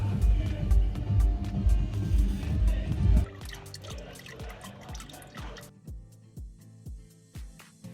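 Engine oil drains from the oil filter housing of a VW MK5 Golf GTI, first as a heavier pouring trickle, then as a slowing series of distinct close drips at irregular intervals.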